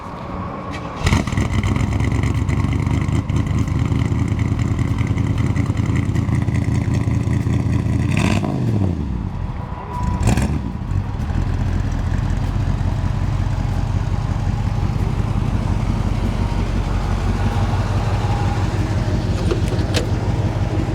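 A 1963 Chevrolet Impala with factory air conditioning starts up and runs, its engine settling into a loud, steady idle close by, with brief revs and a couple of sharp transient knocks partway through.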